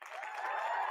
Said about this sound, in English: just a couple claps for Tina